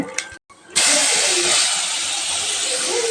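Mustard seeds and asafoetida hit hot sesame oil in a pan, breaking into a loud, steady sizzle and crackle that starts abruptly and holds on alone.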